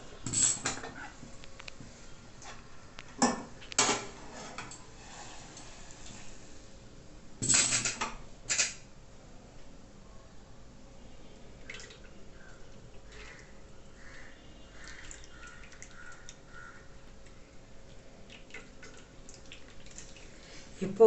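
Dissolved jaggery water is strained into a pot in a home kitchen, with a few sharp clanks of metal utensils early on, then a quiet, steady trickle and faint drips.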